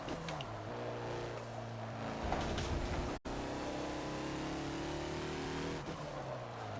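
A turbocharged 2014 Mazda Lola B12/80 race car lapping VIR on cold tires in Forza. The engine drones and revs up and down through gear changes, with a brief cut in the sound midway, loud and close with no talk.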